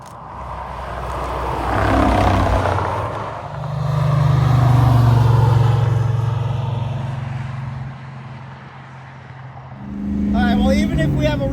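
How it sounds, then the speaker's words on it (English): Cars rush past on a road during Big Sky Race Week, two loud swelling passes with a steady engine drone between them, then another approach building near the end, with a voice talking over the start. "Let's see some cars go by."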